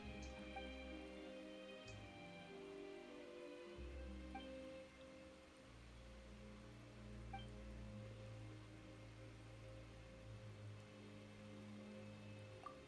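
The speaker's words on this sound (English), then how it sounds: "Why is it raining all of a sudden?" Rain falls in the video game Genshin Impact as a soft, steady hiss that continues for the whole stretch at low volume, with faint game tones underneath. No one talks over it.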